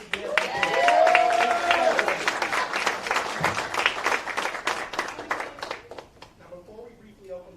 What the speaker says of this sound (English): Can we give a hand clap to them?